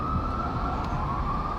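An ambulance siren wails steadily along a New York City street, loud and continuous over traffic rumble, with no talking.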